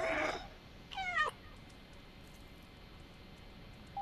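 A cat in the video game Stray gives a single clear, close meow with a rising then falling pitch, preceded by a brief burst of other game noise and followed by quiet ambience.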